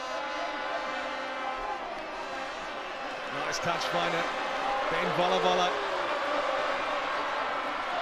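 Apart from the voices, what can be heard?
rugby crowd in Lautoka finding its voice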